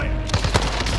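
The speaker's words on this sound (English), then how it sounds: "I am under fire!" Rapid gunfire in a video game, a quick burst of close, loud overlapping shots within about a second, rattling like an automatic weapon.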